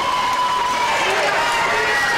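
A girls' high school basketball crowd in a gym cheers loudly after a three-point shot, a continuous roar of voices with a commentator talking over it.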